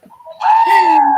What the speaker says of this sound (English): I got my screaming goat.